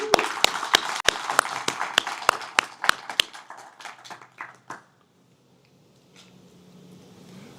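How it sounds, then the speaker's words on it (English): Applause from a small audience at a radio club meeting: sharp, scattered claps that thin out and stop after about five seconds, leaving a quiet room. "So let's give them another round of applause."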